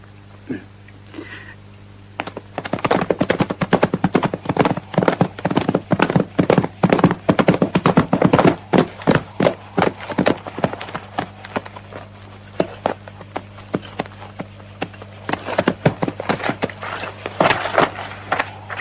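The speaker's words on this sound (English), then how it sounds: "That white horse belongs to Warren, doesn't it?" A white horse's hooves clip-clop in a steady, loud rhythm close by, with a low hum underneath and a brief quieter stretch before the steps begin.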